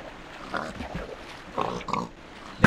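Pigs in the video game Minecraft grunt and oink in a few short, scattered bursts at moderate loudness, ending with a sharper game sound effect.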